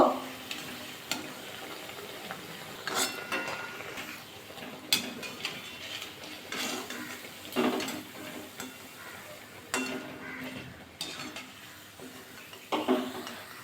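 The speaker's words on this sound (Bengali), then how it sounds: "বাকি কোপ্তাটা এবার ভাজা করে নেবো" Cabbage koftas sizzle in hot oil, a steady close crackle punctuated by repeated scraping and clinking of a utensil against the pan.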